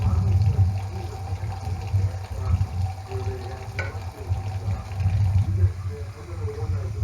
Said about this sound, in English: I'm getting my hot water going